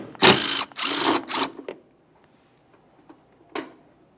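Tool noise while a 13mm nut is removed during a coolant reservoir replacement on a 2002-2009 Chevrolet Trailblazer: two loud, close buzzing bursts, then faint ticks and a short final whir.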